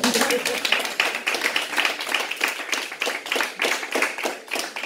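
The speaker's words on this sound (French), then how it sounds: "on l'applaudit s'il vous plaît" Brisk clapping from a church audience, close and fairly loud, with distinct hand claps audible in a quick uneven rhythm for about five seconds; a voice may sound faintly underneath.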